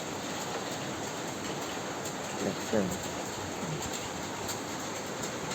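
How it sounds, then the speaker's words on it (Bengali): Steady, even rain falls during Cyclone Remal, a constant hiss that fills the scene, with a faint voice briefly surfacing partway through. "বৃষ্টিটা হচ্ছে"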